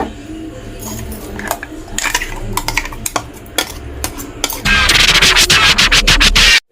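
Onion curry-leaf chutney is scraped and spooned into a serving bowl, with scattered clinks and scrapes of a spoon against cookware that build into a louder, dense clatter of metal near the end.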